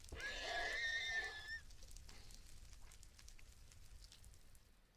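Nightmare horses from a Minecraft modpack give a loud shrill whinny lasting over a second, then fade into a steady crackling, hissing background.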